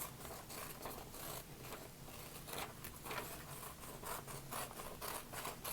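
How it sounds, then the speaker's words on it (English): Scissors snip out a paper circle for a recycled Earth Day art craft, giving a steady, close rasping and rubbing of blades through paper over several seconds, with no talking. "And you will cut out the circle."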